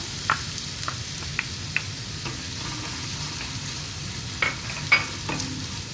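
Onion and green chilli sizzle in oil in a pan with a soft, continuous frying hiss, broken by several sharp clicks and scrapes of a spoon stirring against the pan.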